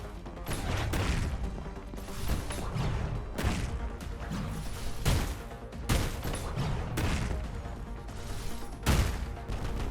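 Double-barrel shotgun blasts in the shooter game Afterblast, loud repeated booms every second or so mixed with crashes, impacts and chaotic combat noise throughout.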